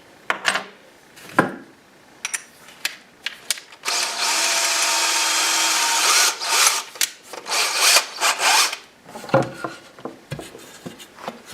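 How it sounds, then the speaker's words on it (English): A drill bores a hole in drywall for a toggle bolt in one steady, fairly loud two-second burst, framed by scattered scraping and handling noises before and after. "We're going to drill a hole."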